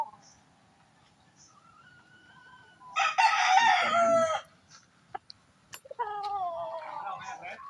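A rooster with curly, frizzled feathers and a round body crows loudly once, nearby, a long harsh call, followed by a second shorter crow; faint calls come before it in a quiet outdoor setting.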